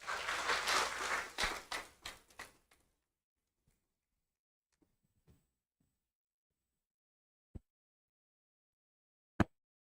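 A church conference audience claps to welcome a speaker at a forum, a short burst of applause that quickly thins out, followed by near silence with a few scattered faint knocks.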